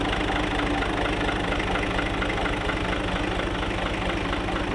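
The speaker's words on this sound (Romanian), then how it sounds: "îl las pe el încet, tractorul să pornească" A tractor engine runs on a farm in Maramureș in autumn, chugging at a steady idle with an even, rhythmic low knock that stays loud and close throughout.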